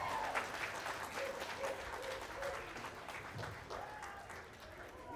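Applause at a middle school talent show, continuous clapping from an audience at moderate distance with a few voices mixed in, steady throughout.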